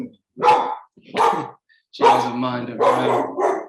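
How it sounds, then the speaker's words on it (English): A dog barks several times in loud, close bursts inside a home, separated by short pauses, while someone talks over the later barks. "I apologize about my dog."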